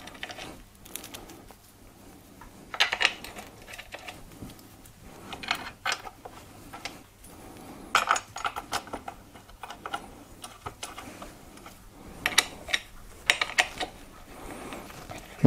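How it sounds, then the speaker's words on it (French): Screws are put back and tightened on the base of an ORAXEAT MX850 gaming chair, producing repeated ratcheting clicks and metallic turning in irregular bursts, close and fairly quiet, with no talk. "on réinstalle les vis."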